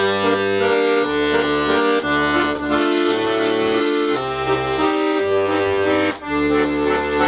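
Accordion with the left-hand bass and chord buttons played legato, deep sustained bass tones changing smoothly under held reedy right-hand notes, loud and close throughout.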